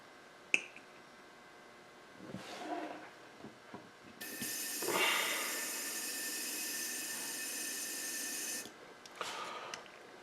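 An airbrush being emptied of leftover paint, a loud, steady hiss lasting about four seconds, preceded and followed by a few quiet clicks, taps and breaths.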